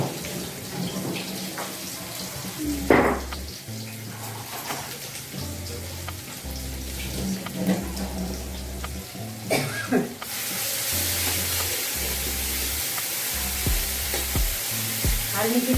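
Water spinach being stir-fried with oyster sauce in a wok, a steady loud sizzle with scraping stirs, later rising to a rushing hiss near the end, with a voice talking intermittently throughout.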